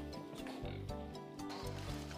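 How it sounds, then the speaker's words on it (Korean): Pigs on a pig farm grunt and snort repeatedly at close range while being fed, a string of low, rough grunts coming in quick succession. "아들 얼굴도 안 보고 돼지 간식부터 챙기는 안섭 씨."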